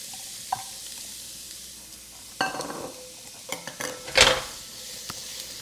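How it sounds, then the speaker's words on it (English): Onion hits hot oil in a pan, a soft steady sizzle punctuated by a few sharp bursts and clinks of stirring utensils, close and alone. "We're gonna toss that onion in."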